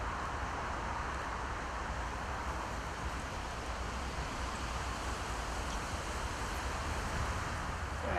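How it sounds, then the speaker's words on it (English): Wind blowing by the River Stour, a steady broad rush of gusting noise buffeting the microphone at moderate level with no voices. "Trying to get down out of that wind."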